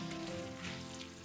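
Cooked buckwheat noodles are rinsed in cold water in a home kitchen, giving a soft, continuous splashing and rushing of water at low volume.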